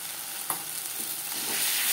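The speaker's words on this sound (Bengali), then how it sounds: "পেঁয়াজ টমেটোর সাথে মশলা বেশ ভালো করে মিক্স করে দেবো।" Spices stirred into onion and tomato frying in a pan for a small bata fish curry with coriander: a steady close sizzle with soft scraping stir strokes, one sharper scrape near the start and the frying growing louder toward the end.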